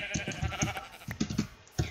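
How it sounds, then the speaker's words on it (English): Sheep in Minecraft give a quick series of short, close bleats in irregular bursts, crowded together over about two seconds. "Sheep. Nice."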